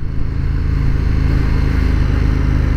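A KTM 1290 Super Duke R engine runs loud and close, a deep throbbing twin-cylinder rumble that holds steady throughout without speech.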